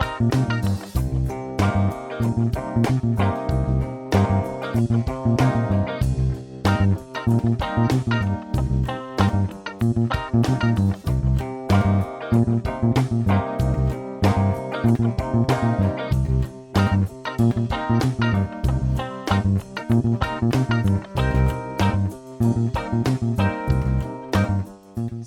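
Bass guitar line number one, an everyday box-shape pattern, plays steadily over a full backing track with drums, loud and continuous for the whole stretch with no talking.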